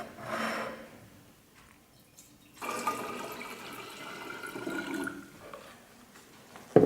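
Water drained after electrolysis is poured into containers, soft splashing and trickling in two quiet stretches near the mic, with a brief clatter at the end.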